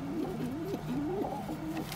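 Pigeons coo softly beside a newly hatched chick, a series of rolling, wavering low coos repeating close by over two seconds against a quiet background.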